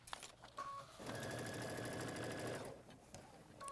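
A sewing machine stitches a seam on an adjustable apron in one fast, steady whirring run lasting under two seconds, framed by quieter handling sounds and short stops before and after.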